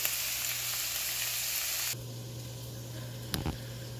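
Seasonal vegetables frying in good oil at a farm kitchen, a steady broadband sizzle that drops to a quieter crackle partway through, with a brief clatter near the end.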